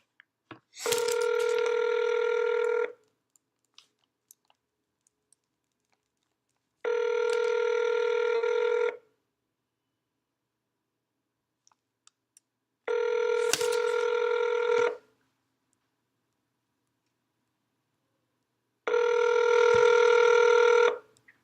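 A telephone call rings out in four long, evenly spaced electronic tones, each lasting about two seconds and separated by silent gaps, loud and clear with no voices over them.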